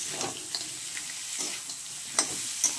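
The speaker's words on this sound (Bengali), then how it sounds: "এবার আমি একটু একটু করে জল দেব।" Crab masala sizzling in a pan as water is added bit by bit, giving a soft continuous frying hiss broken by a few sharp spattering bursts and light stirring clicks, close and alone without any voices.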